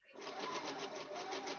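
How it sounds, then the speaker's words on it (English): A sewing machine runs steadily and close by, giving a continuous, even mechanical whir with a faint rapid pulse for the whole short stretch. "you hear my sewing machine?"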